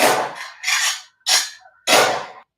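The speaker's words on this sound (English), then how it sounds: "Gunshot, everybody." Four loud, sharp gunshot sound effects ring out in an uneven sequence, each a bright crack with a short decaying tail and clear gaps of silence between them.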